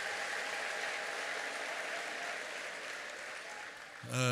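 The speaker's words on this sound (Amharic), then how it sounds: "ይሄን ላደረገ ለእግዚአብሔር እስቲ ከፍ ያለ እልልታና ጭብጨባ እናመጣለን" A church congregation breaks into sustained applause with high ululation layered throughout, a dense, bright wash of clapping and trilling voices that swells steadily, then a loud new burst of sound cuts in near the end.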